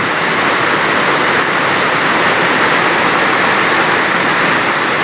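Heavy rain pours down in a dense, loud, unbroken rush of water, steady and close throughout with no voices.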